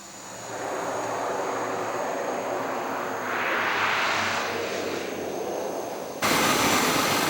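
A passenger airplane arriving at Lukla airport, perched at 2,840 m in the Himalayas after a flight from Kathmandu, gives a steady, loud engine roar that swells midway and jumps in level near the end.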